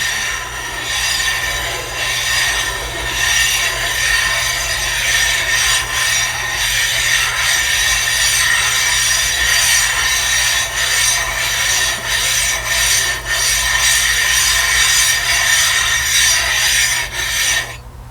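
Abrasive grit rubbed back and forth across a diamond resin sharpening plate with a flat tile, a steady close gritty rasp that runs without pause the whole way through, with no talking.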